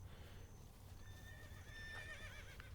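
Video game horse neighing with a rising, wavering whinny while hooves clip-clop nearby, faint against a low background hum.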